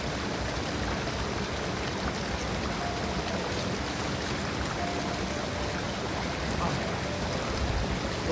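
River water flows steadily in a broad, even rush outdoors, with no break across the stretch and no voices.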